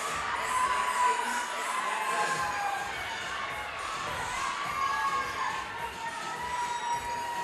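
A crowd of spectators cheers and shouts continuously for athletes at the Burn Boot Camp Athlete Games 2024 fitness competition. The roar stays busy throughout, with voices in the crowd mixed into it.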